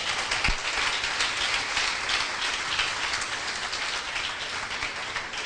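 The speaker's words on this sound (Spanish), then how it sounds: "Den un aplauso fuerte al Señor" Church congregation clapping loudly and continuously during a sermon, a dense hiss-like wash of hands with one sharp knock near the start, no voices over it.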